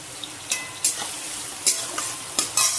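Spices with cinnamon and tomato sizzle in a frying pan, soft continuous frying overlaid by several sharp scraping strokes of a spoon stirring, close and fairly quiet.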